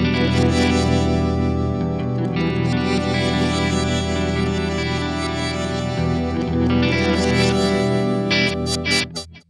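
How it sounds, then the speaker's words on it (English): Dense, washed-out processed music drenched in swelling reverse-delay reverb with an octave-up pitch-shifted shimmering layer, loud and continuous, cutting off abruptly at the end. "We have that kind of reverse delay reverb thing, but with an octave up pitch shift."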